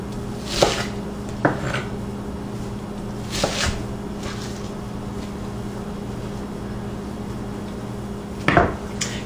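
A knife dices an onion on a cutting board, giving a few scattered, sharp knocks against the board, spaced irregularly over a quiet kitchen background.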